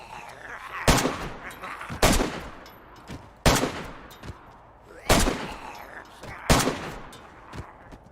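Five loud, sharp rifle shots in DayZ, spaced roughly a second or more apart, each cracking out and trailing off into a fading echo, with no talking.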